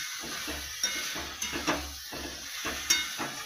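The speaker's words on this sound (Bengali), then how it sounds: "সবজিটাকে একটু ভালো করে কষে জলটা মেরে নেব" Mixed vegetables for a prawn panchmisheli sauté in a pan, a steady close sizzle broken by several sharp scrapes and clinks as a utensil stirs against the metal.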